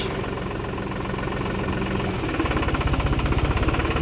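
A New Holland TD4.65 tractor engine idles steadily and close by, its low rumble turning into a rhythmic chugging knock partway through.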